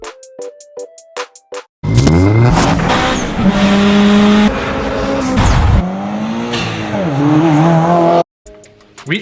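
Subaru WRX STI with an EJ boxer engine, loud revving and accelerating with rising and falling engine pitch, tire squeal and skidding, between short musical tones at the start and end.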